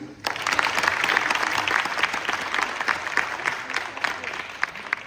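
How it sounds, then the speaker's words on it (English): A festival audience claps after a Carnatic music performance of nottuswarams, a full, sustained round of applause with crisp individual claps near the front, beginning sharply and tapering off slightly. "Could we get another round of applause for them?"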